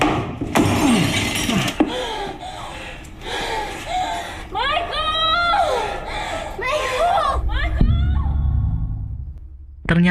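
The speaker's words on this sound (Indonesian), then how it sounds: "Ian memecahkan kaca kecil yang ada di pintu." A small glass pane set in a door is smashed, with sharp crashing breaks mixed among excited voices, gasps and chuckles that carry on around the impacts.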